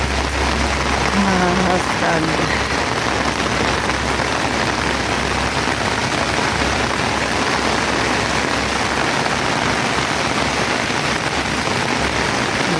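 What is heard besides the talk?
heavy rain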